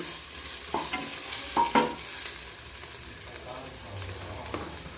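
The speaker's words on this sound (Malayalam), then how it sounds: "നമ്മുടെ ഉള്ളിയെല്ലാം ഇവിടെ നന്നായി വഴന്നു വന്നിട്ടുണ്ട്" Onions sautéing in a pan for chicken biryani, a low sizzle punctuated by a few spatula scrapes and knocks against the pan, close and fairly quiet.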